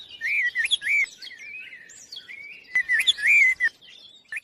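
Bird chirping and tweeting in short bright bursts, a run of clear close calls, a pause, then another lively cluster of chirps.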